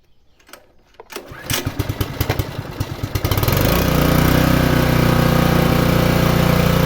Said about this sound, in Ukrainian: Заводимо дровокол.